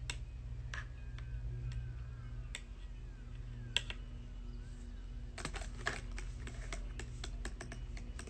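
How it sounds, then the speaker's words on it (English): Sparse keyboard clicks, single taps then a quicker burst of typing, quiet over a low steady hum. "Sorry guys, I'm typing up some notes."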